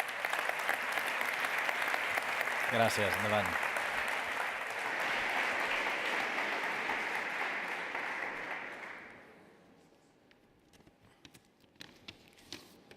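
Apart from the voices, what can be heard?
audience applause at an award ceremony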